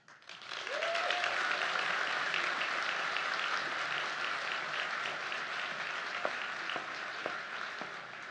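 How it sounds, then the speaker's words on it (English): Applause from a luncheon audience, a dense wash of clapping that swells in quickly and holds steady for about eight seconds, with a faint voice at the start. "Let's give her another round of applause."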